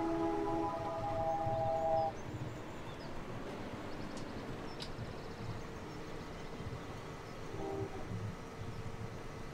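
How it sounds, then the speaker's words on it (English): A train passes in a farming video game on the Giants Island map, opening with a loud horn blast for about two seconds before it fades into a steady rolling rumble with no voices. "Choo-choo train."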